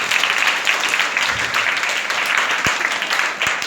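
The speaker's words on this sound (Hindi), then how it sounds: "जोरदार ताली अपने यीशु के लिए" Loud, continuous applause from a church congregation honoring Jesus, a dense steady wash of clapping with no talk over it.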